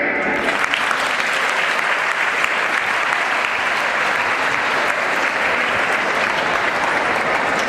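An audience claps at a school plantation awareness program at Thakur Dass Bhargava School. The applause is dense and steady, with no break, filling the room at full volume for several seconds.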